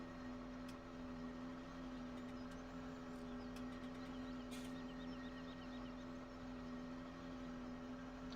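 A big tractor in Farming Simulator 17 drones with a steady, low engine hum throughout, continuous and even while hauling slurry, with faint clicks on top and no talk.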